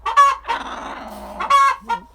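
A hen clucks in two loud bursts near the microphone with a short gap between them, and more fowl cackle in the background on a backyard farm.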